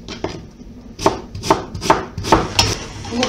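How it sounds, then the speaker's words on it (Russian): Onion diced into small cubes with a knife on a cutting board, a series of about eight sharp, evenly spaced chops close up, with no talking. "Лук нарезаем"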